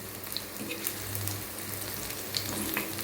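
Taro root slices fry in a pan, a steady close sizzle of hot oil running throughout with a few soft clicks as the slices are turned, heard without speech.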